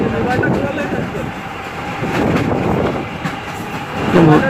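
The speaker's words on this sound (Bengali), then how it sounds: "ট্রেন মানে ছুটতেছে মোটামুটি ভালোই এই যে এখন অনেক স্পিড" A train runs fast, its steady roar and rhythmic clickety-clack close by, swelling and fading slightly, with a brief squeal near the end.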